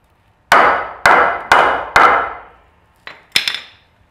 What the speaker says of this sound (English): it's called a block of wood and a hammer.